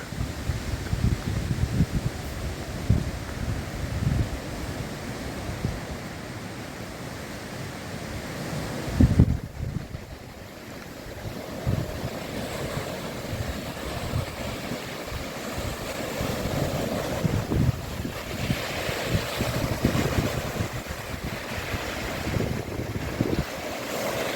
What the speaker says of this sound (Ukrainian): і побачите, які хвилі